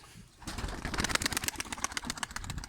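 A burst of many wings flapping at once as a flock of pigeons takes off together, loud and close, with soft coos mixed in.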